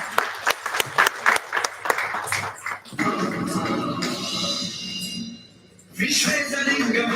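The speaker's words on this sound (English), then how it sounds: "Please give a big round of applause to our students." Audience clapping at an international conference opens with distinct, separate claps and then shifts into a denser mixed crowd noise with voices. A brief lull follows before the noise rises again.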